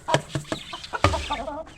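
Roosters cluck close by while eating in short, irregular bursts, a few overlapping calls over a brief moment.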